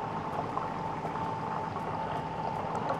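Sugar with a little water melting into caramel in a pan being swirled, giving a steady, dense, quiet bubbling and sizzling hiss throughout, with no voices.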